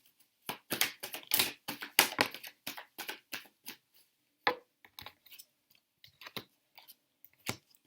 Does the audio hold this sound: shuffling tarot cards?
yes